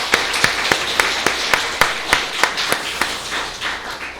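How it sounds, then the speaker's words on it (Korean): A church congregation claps along in a steady rhythm during Sunday worship, evenly spaced hand claps sounding together at a moderate distance for several seconds. "우리 함께 하나님 앞에 다시 한번 경배의 박수 한번 올려드리겠습니다"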